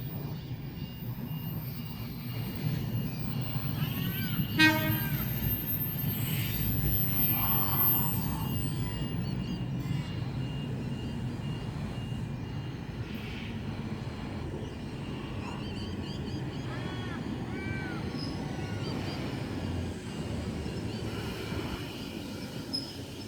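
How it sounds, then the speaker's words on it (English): Sydney S set electric train S104 at Dundas platform 1 on the Carlingford line, a long steady rumble of the train with brief squeals and tonal whines as it arrives, stands and departs, no talking. "We should have an S set arriving on platform number 1 here at Dundas for a Carlingford service."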